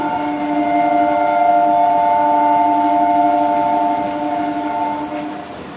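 An Alstom three-phase EMU local train, an ICF-built unit from the NKG shed, passes through a station. Its horn is a steady multi-tone blast held loud and close for about five seconds before it fades slightly.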